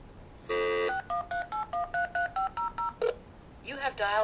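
Telephone keypad dialing tones, a quick run of about a dozen distinct DTMF beeps following a longer opening tone, each short and evenly spaced, close and clear, ending with a brief voice-like burst.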